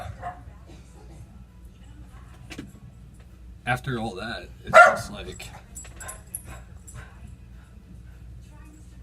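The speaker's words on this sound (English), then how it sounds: "oh, dog's going crazy" A dog barks and yelps in a few sharp bursts midway, over a low steady hum, with a person talking briefly nearby.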